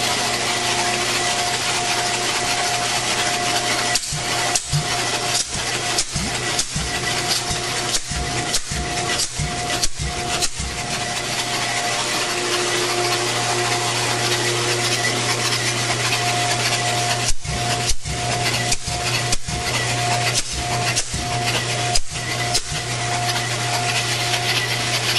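A 389 Pontiac engine turning on a Simtester at about 200 RPM, giving a steady loud mechanical whir with a constant drone and bursts of rapid rhythmic clacking and scraping, close up, no talking.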